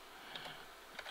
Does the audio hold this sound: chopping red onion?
no